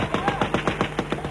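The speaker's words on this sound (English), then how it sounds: "A loudspeaker and gunfire from the Turkish side warns them to stay where they are" Rapid bursts of gunfire from the Turkish side of the border at a 1988 crossing crack in an even rhythm, about nine sharp reports in quick succession, loud and close.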